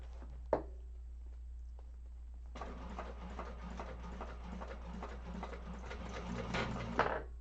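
A sewing machine top stitching a zipper bag runs in a steady, fast mechanical patter after a short pause and a single sharp click, fairly quiet over a constant low hum.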